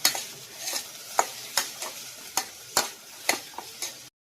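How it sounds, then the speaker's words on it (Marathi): Onions stirred in a hot pan until reddish: steady frying sizzle punctuated by about a dozen sharp, regular scraping strokes of the stirring utensil, close and fairly quiet, with no voices. "कांदा लाल होईपर्यंत हलवायचं त्याला."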